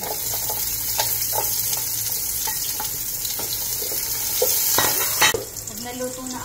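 Garlic and onions sauté in about two tablespoons of hot oil for kare-kare, a steady close sizzle with light spatula taps, growing louder as they go in, then a sharp spatter and a quieter fry.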